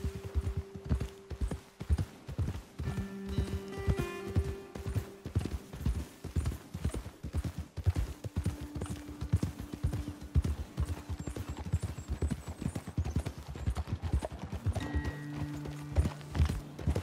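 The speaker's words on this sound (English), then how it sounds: "Best leave the horses back a bit." Horses walking along a trail on the way up to a hilltop lookout, hooves clip-clopping in a steady, close rhythm throughout, with a few tonal music-like sounds layered over them.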